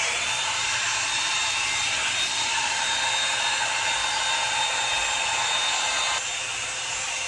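A handheld hair dryer blows steadily close by, a constant airy roar with a faint high whine that drops slightly in level near the end, no voices.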